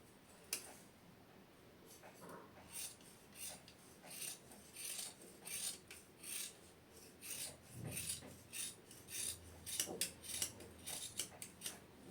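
Scissors cut through blouse fabric along a marked line for a boat neck blouse. The cuts come as a steady run of crisp, close snips that get quicker and more closely spaced toward the end.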